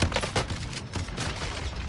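Sustained gunfire rattles through a shooter video game, dense overlapping shots and bursts filling two seconds without pause, loud and close with no talk.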